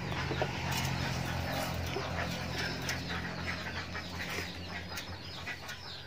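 Chickens clucking and flapping around in a home vegetable garden, fairly close, with busy overlapping calls and rustling over a constant background hum.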